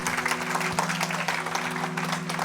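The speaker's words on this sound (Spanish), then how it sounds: "Dale el mejor de los aplausos que no le hayas dado en mucho tiempo" Church congregation applauding together during a worship service, a dense, steady wash of many hands clapping at once that fills the space, with a sustained low musical tone running underneath.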